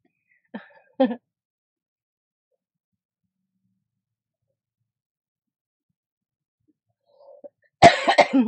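A couple of sharp coughs close by, then a long silence before a louder, harsher burst of coughing at the end, from someone choking on a cough drop.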